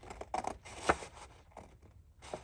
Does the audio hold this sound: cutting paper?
yes